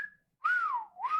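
A melodic whistle from a song track, two sustained gliding tones that swoop up and down with a short gap between them, clear and alone.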